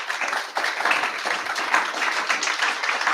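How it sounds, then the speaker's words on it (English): Audience applause after a startup fireside chat about going from idea to Series A, a dense, steady patter of many hands clapping with no pauses. "Let's give them a round of applause."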